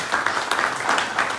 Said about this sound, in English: how about another big round of applause for Dr.